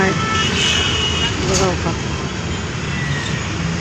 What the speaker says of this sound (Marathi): गाड्या किती आहेत, भरपूर गाड्या. किती वेळ तर उभारलेल्या गाडी यायला. ट्रॅफिक असे जाम आहेत